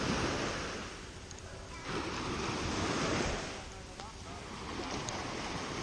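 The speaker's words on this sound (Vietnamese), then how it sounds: "nước trong, sóng đây cũng rất là nhẹ nhàng" Gentle sea waves wash onto the shore at Hon Tam beach in Nha Trang, a continuous close surf with slow swells, mixed with wind buffeting the microphone.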